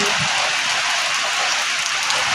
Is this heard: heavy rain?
yes